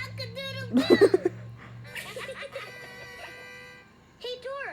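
In a cartoon, a voice mimics a rooster's cock-a-doodle-doo with loud, pitched, warbling calls. Other voices and a light backing tune sit around it.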